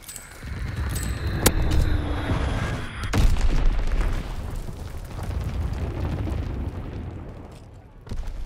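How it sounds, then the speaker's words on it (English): Bomb blasts in Call of Duty: WWII, a heavy low rumble with sharp cracks around the first and third seconds, followed by a sustained roar of battlefield noise that eases toward the end. "Enemy bomb incoming. Get to cover."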